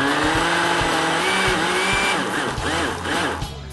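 A food processor pulses Waldorf salad ingredients in a loud, whirring, grinding roar that surges in short bursts, with the motor pitch wavering near the end.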